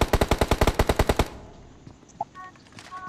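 Automatic gunfire in a multiplayer shooting video game, a rapid burst of about a dozen evenly spaced loud shots lasting just over a second, followed by quieter game sounds and a few faint tones.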